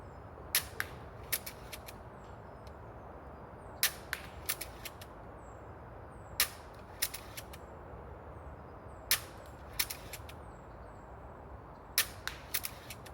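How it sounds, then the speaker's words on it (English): Nemesis semi-automatic slingshot rifle shooting at a bottle outdoors: sharp snapping shots in quick bursts of two or three repeating every few seconds, with birdsong chirps over a low ambient rumble. "I'm going to hit that bottle one more time with the good old Nemesis semi-auto"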